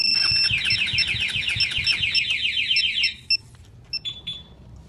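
A Raider Fi motorcycle's anti-theft alarm blares a loud, steady pulsing electronic wail for about three seconds, then cuts off into a few short chirps over low background noise.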